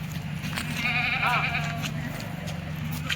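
A goat at a livestock market gives a short, wavering bleat through the middle, over a busy low hum and nearby voices.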